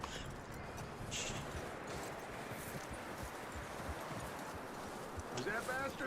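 Horse hooves clip-clopping in Red Dead Redemption 2, a steady run of hoofbeats under rustling, windy outdoor ambience, with a voice talking over it.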